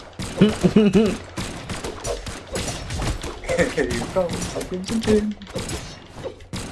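Rapid bursts of video game gunfire from the fighting game Brawlhalla crackle in quick clusters, heard under a voice talking and excited voices throughout.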